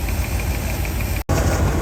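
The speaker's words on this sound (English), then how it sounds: "there's a very noisy lifter up here toward the front of the engine" A 1967 Lincoln engine idles with a steady, rapid ticking from a noisy lifter toward the front, a continuous close mechanical clatter over a low rumble, cut by one brief dropout.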